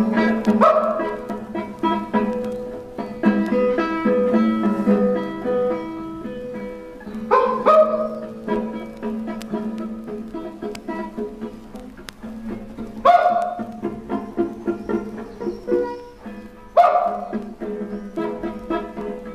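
Dogs bark, yip and whimper throughout a music track, scattered sharp barks recurring over about twenty seconds amid sustained tonal sounds, with no speech.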